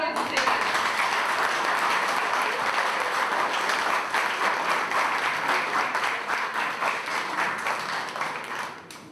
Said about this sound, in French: On va les accompagner sur les applaudissements